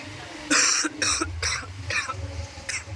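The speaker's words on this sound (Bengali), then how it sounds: "বেশি কথা কথা বললেই কাশি পায়" A series of about six harsh coughs in a rhythmic run, close and loud over a low rumbling background.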